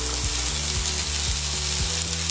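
Bell pepper hitting a hot frying pan while a seafood and summer vegetable stew is cooked, giving a loud, continuous close-up sizzle with a faint rhythmic mechanical ticking underneath and no talking.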